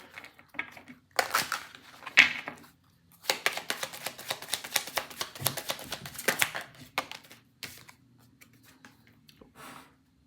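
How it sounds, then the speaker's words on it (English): A deck of playing cards is shuffled by hand close up, giving quick riffling bursts and soft slaps in several separate runs with short pauses between them. "Let's get a good little shuffle again."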